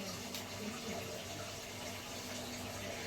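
Fresh ginger washed in warm water, with a steady rush of running or sloshing water under a faint, even background hum and no speech.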